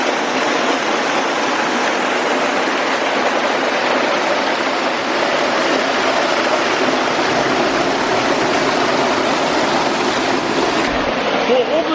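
An underground river in Manchester rushes through a culverted channel beside the ruins of an old mill, a loud, constant roar of flowing water that echoes and fills the whole clip.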